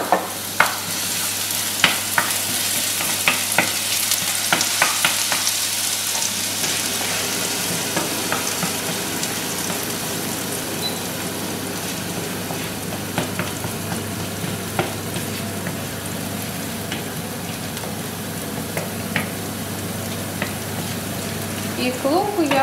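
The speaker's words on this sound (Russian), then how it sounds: "Поджариваем лук." Onions frying in a pan sizzle steadily and close, with frequent light clicks and scrapes of stirring scattered throughout, and a voice murmuring faintly near the end.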